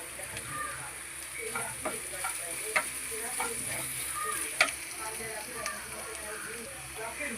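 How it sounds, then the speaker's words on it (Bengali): Chopped garlic sizzling in a hot pan while being stirred, a steady soft frying crackle with occasional scraping clicks of the spoon, fairly quiet and close. "রসুন কুচিগুলো একটুখানি আবার 2 সেকেন্ড একটু নাড়াচাড়া করে নিয়ে"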